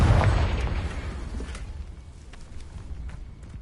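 The Confringo spell in Hogwarts Legacy hits with a deep, loud explosive boom at the start that rumbles and slowly fades. A few faint pops and clicks follow.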